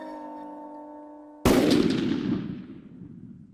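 A single loud gunshot, fired from a .243 rifle during a night kangaroo cull on Australian farmland, cracks sharply after a low tonal hum, then rings out and decays over a couple of seconds.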